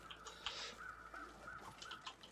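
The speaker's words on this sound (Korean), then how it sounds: "까마귀 소리로" A crow caws in the video game The Long Dark, several harsh repeated calls at a moderate distance, fairly quiet against a still, empty background.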